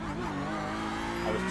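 Tires on an iRacing Porsche GT3 race car at the Red Bull Ring squeal under early braking over a steady, loud engine drone, with rising and falling tonal whine throughout the short burst.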